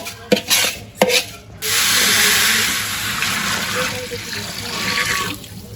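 Water pours steadily into a pot of raw rice set to soak for a village biryani, a broad rushing splash lasting several seconds after a few short knocks and clatters at the start.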